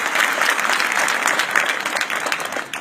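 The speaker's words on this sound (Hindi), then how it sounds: "हाथ उठा के एक बार जरा तालियां इस बात पे लगा।" Sustained audience applause at a motivational lecture, a dense even wash of clapping from a large crowd, steady throughout and alone without talk.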